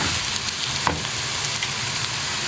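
Salt, chili, cumin and turmeric fry in a pan, giving a steady, close hiss of sizzling oil with one brief stirring clink and no talk.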